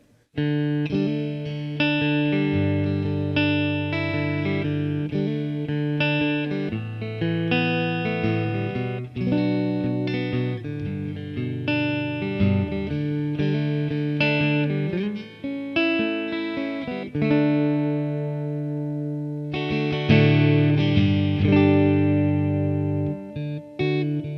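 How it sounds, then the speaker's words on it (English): Gretsch Jim Dandy acoustic guitar played with chords and melodic picking, straight from its pickup through an amp with a light reverb tail, steady and fairly loud with no voices. "this is just all directly from the pickup of the acoustic guitar here"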